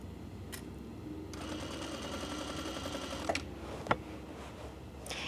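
Sewing machine stitching the second lining of a wedding dress, a steady fast whir running for about two seconds, then stopping, with a few small clicks and taps afterward.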